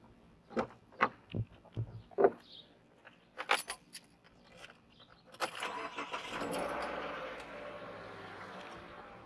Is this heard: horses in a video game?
no